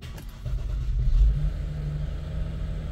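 A car engine starting up with a low rumble that rises briefly then settles into a steady idle hum, heard fairly close with no talking.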